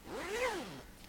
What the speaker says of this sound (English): Has a nice zipper pull.